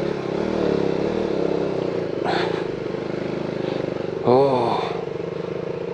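Two KTM Duke 200 motorcycles ridden on a road in Karnataka, a steady engine drone running throughout with a brief rev rising near the end, under a short spoken exclamation.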